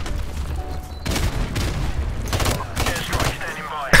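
Grenade blasts and bursts of gunfire from Modern Warfare Remastered search-and-destroy on the Shipment map, with loud dense booms and rapid shots arriving in several heavy clusters across four seconds.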